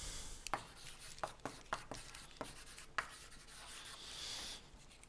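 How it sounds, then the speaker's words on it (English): Chalk or marker writing on a board during a mathematics lecture, a series of short scratchy strokes in quick irregular succession followed by a longer rubbing stroke, close and fairly quiet, with no voice. "So let me write this down precisely."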